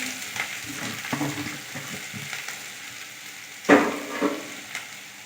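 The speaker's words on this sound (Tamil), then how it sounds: "கடுகு பொரிஞ்சதுக்கப்புறம் நம்ம கட் பண்ணி வச்சுருக்க ஆனியன் இது கூட வந்து ஆட் பண்ணி" Chopped onion drops into hot oil with popped mustard seeds for a Tirunelveli-style urundai kuzhambu, giving a light crackling sizzle and a sharper burst of hissing partway through.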